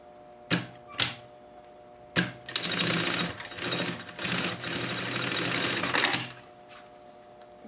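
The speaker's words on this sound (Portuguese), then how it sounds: "vou passar uma costura aqui em cima da costura que eu já tinha feito" Sewing machine stitching a lining seam of a lunch bag, topstitching over an earlier seam: two quick isolated clicks, then a continuous rapid chatter of stitching lasting several seconds before stopping.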